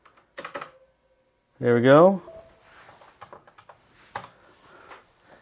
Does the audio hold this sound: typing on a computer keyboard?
yes